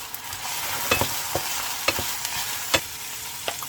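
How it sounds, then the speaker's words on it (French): Peas cooking in a little sunflower oil in a pan, a steady soft sizzle broken by repeated clicks and scrapes of stirring at uneven intervals, no voices. "Maintenant, je vais faire cuire les petits pois. Je mets un petit peu d'huile de tournesol"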